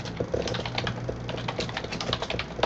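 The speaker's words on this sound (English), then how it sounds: "I'm going to go ahead and start typing" Quick, irregular clatter of fingers typing on a computer keyboard while formatting an MLA paper, close and steady with no voices.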